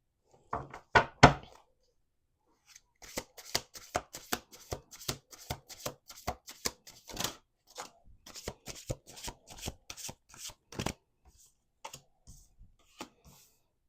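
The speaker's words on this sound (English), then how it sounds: "We're going to do 2 more shuffles." Tarot cards being shuffled in quick riffling bursts, with soft taps and pauses between rounds, close up and fairly quiet.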